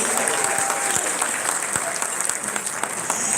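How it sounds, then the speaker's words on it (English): A crowd applauds at the 2018 Gentlemen's Ball, a live gala event, with dense, steady clapping that fills the room at a loud, even level for the whole stretch. "Give yourselves a round of applause for coming to the 2018 Gentlemen's Ball, everybody."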